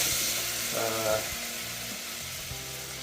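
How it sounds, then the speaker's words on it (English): Onions being added to melted butter in a pan, cooking a peppercorn sauce: a steady close frying sizzle that swells briefly with a stir, along with light utensil clatter and faint background hum. "I've melted the butter now, and I'm just going to get the onions in. I just want to soften those."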